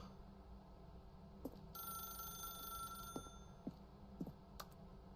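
A telephone in The Stanley Parable video game rings with a bright electronic trill, faint and steady, punctuated by a few soft clicks and taps, with no one talking.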